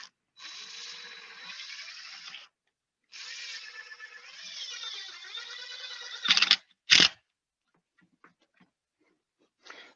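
A power drill drives a small-profile trim head screw into a corner, giving two sustained whirring runs of several seconds each, then two short loud bursts as the screw seats, followed by a few faint clicks.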